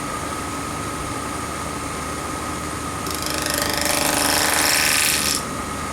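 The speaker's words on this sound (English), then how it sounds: "because I have a fingernail grind bowl gouge, I'm going to do it as a draw cut rather than a push cut" A wood lathe turns a bowl while a fingernail-grind bowl gouge makes a draw cut, first a steady mechanical whir, then a louder, brighter scraping hiss of cutting that swells midway and stops after a couple of seconds.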